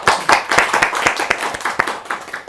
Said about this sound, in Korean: 박수로 청하겠습니다.